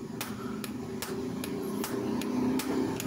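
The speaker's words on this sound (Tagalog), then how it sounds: "baliktarin nyo yung ating martilyo para ma-flatten yung ating blind rivet" A hammer strikes a blind rivet on a car clutch housing to flatten it, landing about seven sharp metallic blows at a steady, unhurried rhythm over a low background hum.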